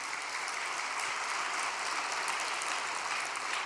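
An audience applauds continuously at a religious gathering, producing a dense, even wash of many hands clapping that holds steady without pause.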